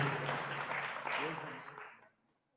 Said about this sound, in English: Right, applause for the artist and the winner.